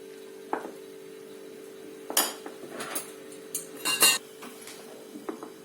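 Jaggery water poured through a sieve into wheat flour for sweet gulgule, with scattered metallic clinks and scrapes of the utensils against the bowl, fairly faint and close, no voice.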